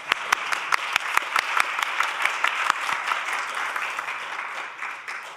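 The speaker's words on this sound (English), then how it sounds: "big round of applause for Missouri DRS" Applause from a conference audience at a workforce summit, a steady wash of many hands clapping with a few sharp nearby claps standing out, sustained for several seconds without speech.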